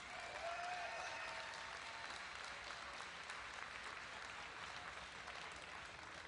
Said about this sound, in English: Huge round of applause again to your champion